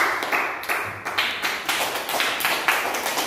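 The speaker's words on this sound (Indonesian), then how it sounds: "Terima kasih tepuk tangannya untuk kelompok 3 ya." A classroom group applauding another group of students, a ragged burst of claps from a handful of people, the individual slaps clearly separate and fairly close, rising and falling unevenly.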